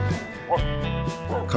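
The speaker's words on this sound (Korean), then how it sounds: "갑자기 커다란 개가 짖으며 다가옵니다." A large unleashed dog barks on a rural walking trail near a mountain village, two or three deep, close woofs with whining tones between them.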